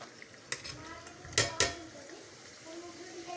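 Paneer pieces tipped into a pan and stirred, with a few sharp clatters of a utensil against the pan around the middle and a faint sizzle underneath.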